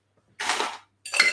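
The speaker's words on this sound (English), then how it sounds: "I'm just going to put a little bit more ice in my glass to chill it." Ice goes into a glass in two quick, close rattling pours, each a short clattering burst with a brief silence between them.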